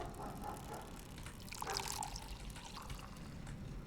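Water pouring inside the video game Pathologic Classic HD, a short trickling splash of liquid rising briefly midway over a steady low ambient background, with no talking.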